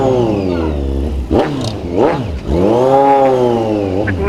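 Kawasaki Z1000 motorcycle engine revving hard, loud and close, with rising and falling pitch sweeps as it accelerates through the gears.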